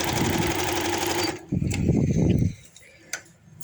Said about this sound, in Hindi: इस तरह से मैं एंड तक इसके सिलाइयाँ लगा देती हूँ